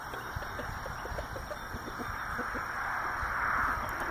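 A hen and rooster cluck softly in short scattered bursts over a steady outdoor hiss, close by and fairly quiet, with no talking.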